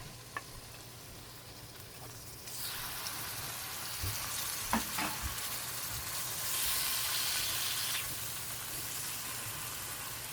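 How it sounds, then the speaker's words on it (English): Shrimp sautéing in a little oil in a pan starts with a sudden sizzle partway through and then crackles steadily up close, with a few sharp clinks and ticks from the pan. "And I'm going to saute my shrimp for about 4 minutes."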